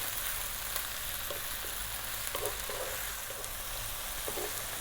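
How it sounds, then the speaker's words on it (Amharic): Spinach frying in a pan on medium heat for a tuna spinach creamy pasta, giving a continuous close sizzle with faint stirring scrapes and no voices. "ጎመኑን ለ4 ደቂቃ እንጠብሳለን።"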